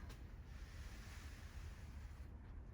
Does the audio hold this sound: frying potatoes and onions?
no